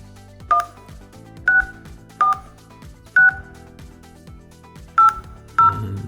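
Six evenly spaced DTMF keypad tones dialed on a 3CX softphone dial pad, each a short clear beep with brief gaps between presses, heard alone without talk.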